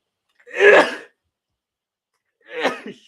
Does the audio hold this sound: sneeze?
yes